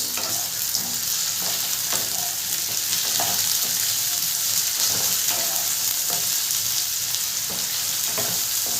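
Ginger garlic paste fries in hot oil for a Bengali rohu fish curry with potatoes, giving a loud, continuous sizzle with intermittent stirring scrapes close by.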